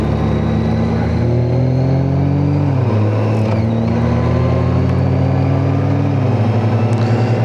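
A vehicle engine revs loudly through its exhaust, holding a steady roar that dips and climbs in pitch a couple of times, close and continuous with no voices.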